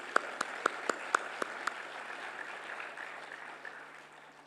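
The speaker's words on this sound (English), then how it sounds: "Could we have a round of applause for all of those people, please?" Scattered claps at a school graduation ceremony, a handful of sharp distinct hand claps at first that fade into a faint, thin patter in a large room.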